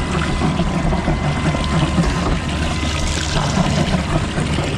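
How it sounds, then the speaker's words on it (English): Water is loaded into a concrete pump in cold weather to clean it out, a continuous loud rushing, splashing flow with a mechanical pump rumble underneath, no talking. "We'll load it up with some water."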